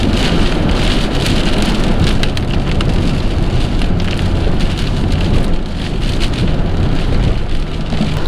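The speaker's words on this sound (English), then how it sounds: "The rain is starting to get heavy again." Heavy rain pours steadily and loudly on a vehicle driving the old main road toward Dundalk, a dense continuous hiss with a few brief surges and no talking.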